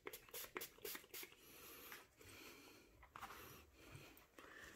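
Cleaner sprayed onto the gas piston of a Beretta semi-auto shotgun, several short close hissing spray bursts in a quick series, followed by quieter scraping and handling noise with no talking.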